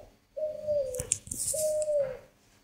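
Spotted doves coo in two drawn-out, mellow calls about a second apart, close and clear, with faint rustling and small clicks around them.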